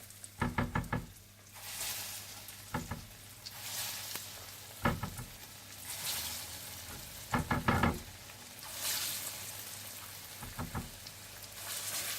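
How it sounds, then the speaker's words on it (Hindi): Egg-dipped, breadcrumb-coated potato tikkis shallow fry in hot oil with a continuous soft sizzle, interrupted by several clusters of sharp rapid clicks and knocks from the pan or spatula, nearby and quiet overall. "तेल गरम कर लीजिए और इन्हें शैलो फ्राई कर लीजिए।"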